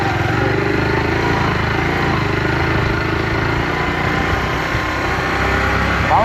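Motorcycle engine running steadily and loudly in Honduras, a continuous close drone with no talk over it.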